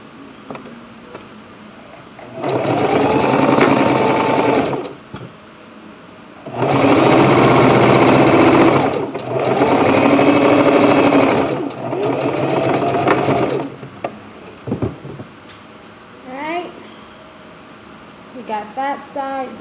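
A sewing machine stitches down the openings on a fabric mask in three steady bursts of a few seconds each, separated by pauses, with light handling noises and some quiet talk near the end.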